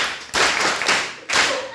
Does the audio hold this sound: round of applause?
yes